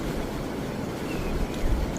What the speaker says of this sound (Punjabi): ਨੀਚੇ ਸਰਸਾ ਨਦੀ ਆ ਇਹ ਜਿੱਧਰ ਨੂੰ ਪਾਣੀ ਜਾ ਰਿਹਾ